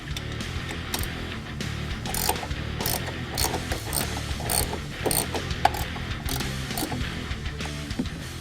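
A ratchet wrench clicks rapidly while loosening strut bolts on a 2013 Ford Focus ST during a coil spring install, a dense, close mechanical chatter with rhythmic surges of faster clicking throughout.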